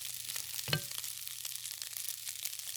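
Seafood for curry fried rice browns in a pan with a soft, continuous sizzle, marked early by one sharp clank of a utensil against the pan.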